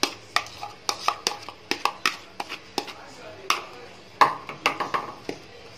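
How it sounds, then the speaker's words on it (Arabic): Garlic is added while red pepper harissa is being made, heard as a series of sharp, irregular knocks and clinks from a bowl or pan, close and crisp, with quiet gaps between them. "هنبدأ ننزل الثوم"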